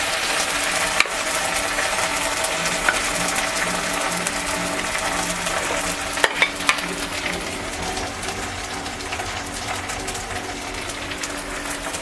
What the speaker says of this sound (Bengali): দিলাম হাফ চামচ আদা, ভালো করে নেড়ে তারপরে দিয়ে দেব